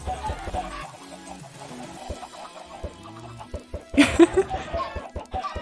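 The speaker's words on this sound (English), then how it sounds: "Chickens? Did someone say chickens?" Chickens clucking in Minecraft, short scattered clucks with a louder burst of squawks near the end, amid game sounds and no talking.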